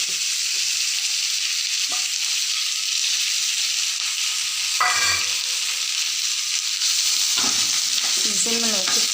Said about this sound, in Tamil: நல்லெண்ணெய் ஊற்றிட்டு அதில் நம்ம பறித்து சுத்தம் பண்ணி வச்சுருக்கோம்ல இந்த தூதுவளை இலை, இதை நல்லா போட்டு நல்லா சுருளை வதக்கிடணும்